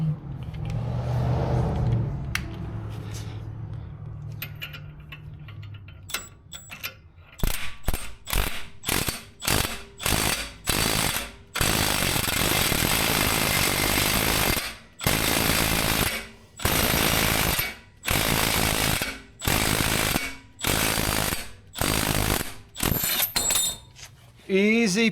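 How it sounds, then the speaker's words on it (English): A ball joint press clicks and ratchets under a 22 mm wrench as its bolt is tightened to push extended wheel studs through a car's rear hub, giving repeated close mechanical bursts separated by short pauses after a quieter opening stretch. "Push them through the back side by tightening down the bolt up here."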